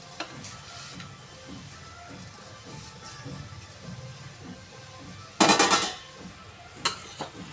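Modak filling with melting jaggery is stirred in a pan, soft scraping and thick bubbling throughout, with a few loud metallic clatters of the spoon against the pan later on.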